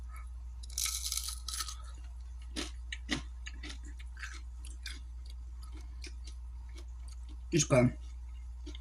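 Crisp crunches from someone chewing homemade fries that are thin-cut and chip-like. A few close bites crackle sharply at irregular intervals, and a short spoken remark follows near the end.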